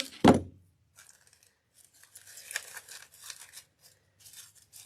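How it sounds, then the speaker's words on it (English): Scissors trim a flower stem for a grapevine wreath: one sharp, loud snip at the start, followed by quieter rustling and light crinkly handling sounds nearby. "let me trim the stem down"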